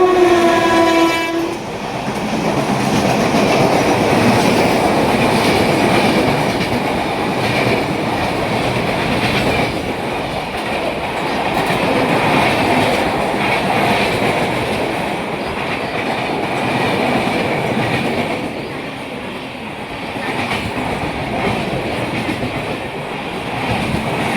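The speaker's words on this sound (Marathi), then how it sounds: "Fast train is passing." A fast train roars through a railway station platform without stopping, a loud, continuous rushing rumble with rhythmic clatter of wheels over rail joints and a brief horn at the start, close by and filling the whole stretch.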